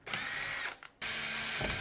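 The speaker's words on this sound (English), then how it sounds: "All right, now we got it pre-drilled." A power drill pre-drills a hole for a floor drain in two close bursts, a loud whirring grind that briefly stops, then starts again, heard alone.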